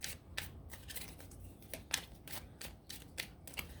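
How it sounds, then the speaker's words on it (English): Tarot cards being shuffled by hand, a series of quick papery riffles and flicks repeating roughly every half second, close and fairly quiet with no talking. "I do shuffle to get the cards"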